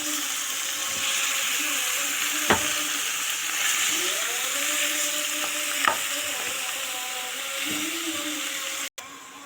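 Minced meat fries in a pan with a steady close sizzle, while a utensil stirs through it in a few brief clinks and scrapes.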